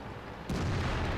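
A heavy artillery shell slams into a Jagdtiger 8.8 tank destroyer in World of Tanks, one sudden loud boom that cuts in halfway and leaves a dense rumbling roar ringing on afterward.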